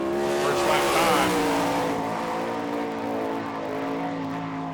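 Sprint cars racing on a dirt oval at Hartford, Ohio, in an All Star Circuit of Champions event, a loud high engine roar sweeping past off the final turns and then fading.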